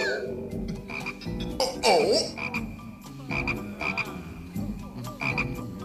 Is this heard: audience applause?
no